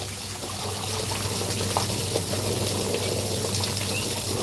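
A small waterfall runs into an outdoor hot tub in Cocoa Beach, Florida, a steady close wash of splashing, trickling water with a low mechanical hum beneath and no talking.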